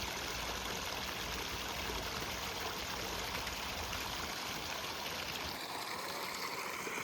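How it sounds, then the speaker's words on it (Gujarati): Water flows in a stream at a party plot in Junagadh, a continuous rushing, gurgling wash that holds steady and close throughout with no talk. "અહીંથી પાણી આવે છે. પાણી હાલે છે."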